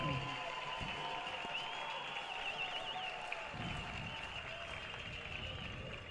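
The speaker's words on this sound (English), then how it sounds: "Fans getting into it here at the Rourke, cheering on Jake Sakata." Baseball crowd at the Rourke cheers on a batter during a bases-loaded full count, a steady wash of distant crowd noise and scattered whistles, with a commentator talking over it.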